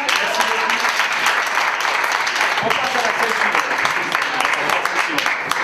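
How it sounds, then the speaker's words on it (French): An audience at an interactive theatre forum applauds for Sabine, a steady, dense clapping that continues evenly throughout while a voice speaks briefly over it. "On peut applaudir Sabine."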